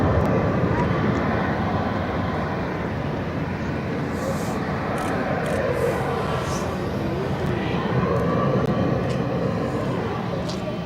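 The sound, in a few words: Emirates airliner taking off at Barcelona airport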